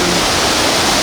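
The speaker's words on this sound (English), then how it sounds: "the waterfalls, as you can see, are an absolute peak flow" Waterfall at peak flow on the Bolaven Plateau after late rainy-season rains, a dense, steady roar of falling water filling the air evenly from low rumble to hiss, loud and close with no voices.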